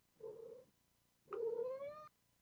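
Oliver the cat gives two close meows, a short low one followed by a longer rising, drawn-out cry, in a quiet room.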